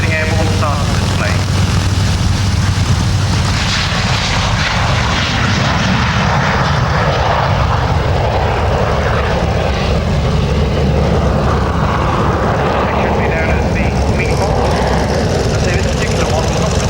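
A 1952 NF11 jet with two Rolls-Royce Derwent Mk 9 engines takes off at an RAF Finningley air display, a loud continuous roar lasting throughout, with crowd and commentary noise beneath.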